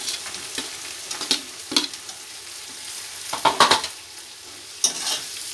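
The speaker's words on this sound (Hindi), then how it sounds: "इसको थोड़ा सा तलूंगी।" Red and green capsicum fry in a pan, with a soft continuous sizzle broken by several scraping stirs of a spoon against the pan.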